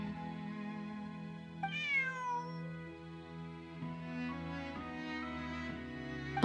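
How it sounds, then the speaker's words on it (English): A cat in the video game Genshin Impact gives a drawn-out, rising meow followed by a few shorter mews over a steady background music bed. "Bonnie is Pierre's cat"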